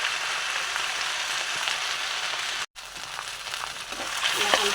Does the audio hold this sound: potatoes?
yes